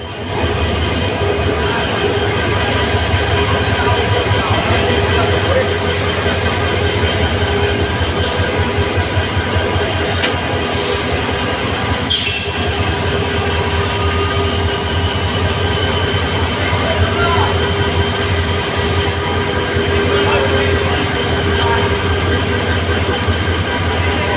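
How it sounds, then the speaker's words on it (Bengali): Steady rumble of a train at a metro station while a locomotive is coupled to the waiting cars, with constant low engine drone and occasional brief metallic clanks over continuous background noise. "ইঞ্জিনটা লাগাবেন"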